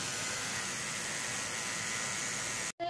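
An electric precision beauty trimmer for eyebrows and facial hair runs with a steady, even high-pitched whir and hiss. The sound is faint and continuous and cuts out abruptly near the end.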